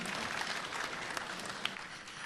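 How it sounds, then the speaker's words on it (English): An audience at a brand ambassador launch event claps continuously. The applause is dense and steady, with a few sharper claps standing out, and no one speaks over it. "Could we have a huge round of applause for Dabbu Ratnani, please?"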